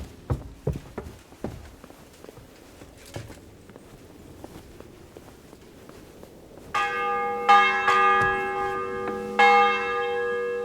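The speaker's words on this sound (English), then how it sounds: "The bell's ringing for Hans the 5th time." A church bell tolls in Kingdom Come: Deliverance II, its rich ringing tones entering after footsteps and hoofbeats, then swelling and repeating with several loud strikes that linger and overlap.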